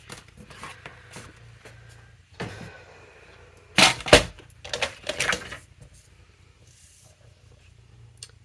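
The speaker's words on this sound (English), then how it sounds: "So we are going to trim this down to 3 3/4 inches by 2 3/4 inches." Paper being trimmed for a 4x6 craft album on a paper trimmer, with a quiet stretch of faint handling before a loud burst of cutting and slicing strokes in the middle, then a few softer scrapes.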